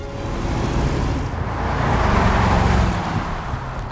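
A new Jaguar car drives along a road, its engine and tyre rumble forming a steady, fairly loud broadband wash that swells slightly midway, with no voices.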